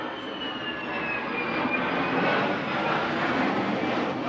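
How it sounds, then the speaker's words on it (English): A steady, broad jet roar fills the air, rising slightly in loudness midway, as F-16 fighter jets pass overhead in Winooski, with no talking. "what you heard there were F-16 planes actually flying overhead in Winooski"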